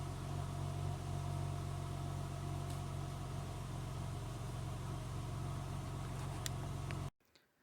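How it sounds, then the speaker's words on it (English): A steady, low droning exhaust note from a 2003 Acura CL Type-S with a Comptech header at about 3000 RPM, around 80 decibels, humming continuously at a constant pitch before cutting off abruptly near the end. "what does change is the note of the exhaust"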